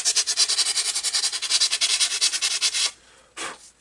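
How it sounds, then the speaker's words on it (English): A part for a Great Planes PT-20 model airplane is sanded by hand, with close, loud, steady rhythmic rasping strokes for about three seconds, then a short pause and one final stroke. "And then we'll start sanding."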